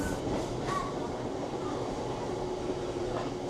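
A Howrah–Digha local train departing Santragachi rumbles steadily in a continuous low roar, with a brief squeal and a crow cawing faintly in the background.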